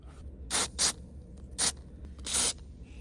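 Several short hissing bursts from a spray can of grease aimed into a car shifter mechanism, two quick ones, a pause, then two more, close up against a quiet background.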